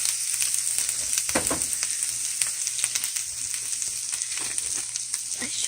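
Dragon kale frying in a pan on lowered heat, with a constant close sizzle broken by bursts of crackle and scraping as the leaves are stirred.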